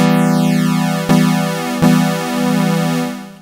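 A buzzy sawtooth synth tone holds steady, its two layers slowly beating against each other in a swirling, phasing wobble, with no voices.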